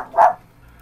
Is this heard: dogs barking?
yes